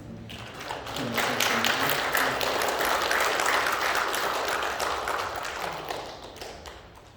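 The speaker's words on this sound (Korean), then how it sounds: "저기 가운데 쪽에 앉아 계신 분이 처음 오신 것 같은데 박수로 좀 환영하겠습니다." A church congregation at a Sunday service in Colorado Springs claps to welcome a first-time visitor, a dense, steady round of applause that swells quickly, holds, then tapers near the end, with faint voices underneath.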